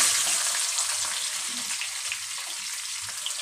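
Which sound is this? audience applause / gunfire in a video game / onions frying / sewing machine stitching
onions frying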